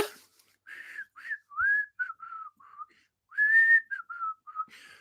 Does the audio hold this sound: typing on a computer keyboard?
no